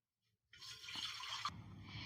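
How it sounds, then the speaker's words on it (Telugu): Water poured from a glass into a cooking pot on a stove, a steady splashing pour that starts abruptly and runs on without talk, measured out while preparing a meal-maker (soya chunk) dum biryani. "ఈ గ్లాస్తోని 5 గ్లాసుల నీళ్ళు కొలతతోని పోసిన"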